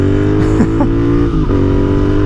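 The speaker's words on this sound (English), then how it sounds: "now I can hear that rev limiter" A Royal Enfield race-build motorcycle engine is held in first gear against its rev limiter, a loud, close, sustained buzzing drone that stutters and bounces as the limiter cuts in.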